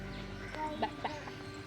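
A few short, faint clucks from a chicken, spaced out over a steady background hum.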